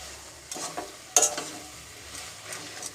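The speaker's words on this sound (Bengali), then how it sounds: "দেখো বন্ধুরা, ভালোভাবে কিন্তু আমার তরকারিটা ফোটা শুরু করে দিয়েছে।" A curry of Malabar spinach and fish heads simmers in a pan, with a faint bubbling sizzle broken by a few clattering stirs and scrapes, close by and fairly quiet.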